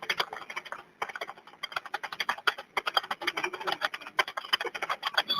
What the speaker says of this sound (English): That keyboard loud as hell.